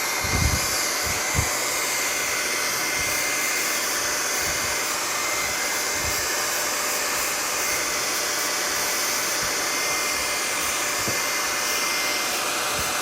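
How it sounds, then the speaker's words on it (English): A blow dryer runs continuously during a TCA chemical peel treatment, with a loud, steady whooshing roar, joined by a few faint knocks and handling sounds. "go ahead and turn your blow dryer on"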